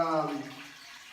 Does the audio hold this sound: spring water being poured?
yes